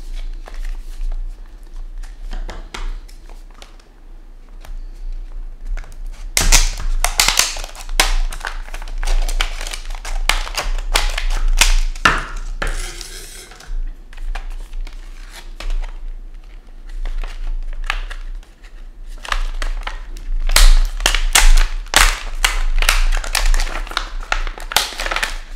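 A Pokémon booster tri-pack being opened by hand, bursts of close crinkling and tearing foil and card rustling that come and go, loud in stretches with quieter pauses between, no speech.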